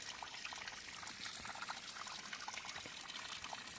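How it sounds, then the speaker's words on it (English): A small trail waterfall splashes and trickles steadily, a constant bright hiss of running water close by with no voices. "Neat little waterfall here."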